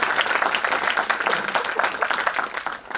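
Loud, dense applause from a conference audience welcoming a speaker at a national conference on education policy at a college in Kadi, continuous and even throughout.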